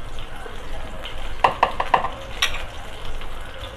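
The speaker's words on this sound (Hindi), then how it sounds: "हमने जो है ऑयल गरम किया है, थोड़ा सा ही ऑयल डालेंगे क्योंकि हमने इनको शैलो फ्राई करना है।" Oil heats in a pan for shallow frying, a soft steady sizzle with a few sharp clinks and stirring knocks near the middle, close and fairly quiet, with no talking.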